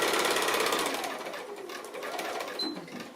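A sewing machine stitches a fabric bag close by in a fast, steady rattling run that fades slightly and then picks up again.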